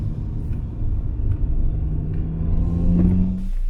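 A Honda K20 VTEC engine running without its intake, a loud close rumble with a steady low drone that swells and rises in pitch as it revs near the end.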